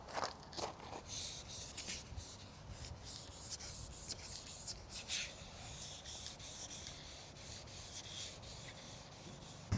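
Hand sanding of the lacquered paintwork on a Porsche, a soft continuous rubbing scratch with faint rhythmic strokes at close range and no talk.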